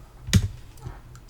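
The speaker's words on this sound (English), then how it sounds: "And then we're going to type in mkdir space marquees, hit enter." A single firm key press, then a fainter click or two, comes from a computer keyboard as a folder command is entered on a Raspberry Pi; close and clear, with no one speaking.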